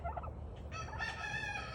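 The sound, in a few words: turkey hens giving a stranger reaction call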